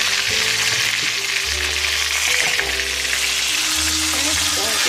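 Pork chops frying on high heat in a pan sizzle loudly and steadily, a dense crackle with low hum underneath and no talk over it.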